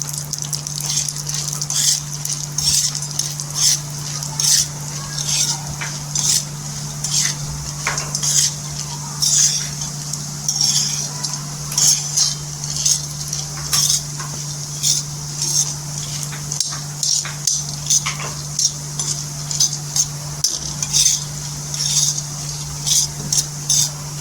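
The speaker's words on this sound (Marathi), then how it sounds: "1-2 मिनटं छान अशी भाजून घ्यायची तव्यावर" A spoon repeatedly scrapes and taps against a hot griddle in a steady rhythm as dal roasts in ghee, with a constant hum underneath and no talking.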